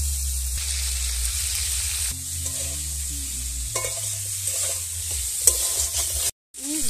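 Potatoes fry in oil spiced with kalonji (nigella seeds) as stirring scrapes across the pan, with a soft sizzle under low hums and a short dropout near the end.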